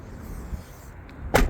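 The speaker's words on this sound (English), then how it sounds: "Passenger door, nice and heavy." The heavy passenger door of a 2017 Ford Police Interceptor Utility shuts with a single solid thud near the end, after a short stretch of quiet outdoor ambience.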